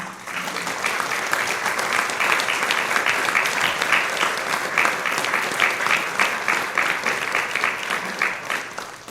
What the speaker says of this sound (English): could you join me in a special round of applause for our associate conductor, Sarah Boyce Decker, please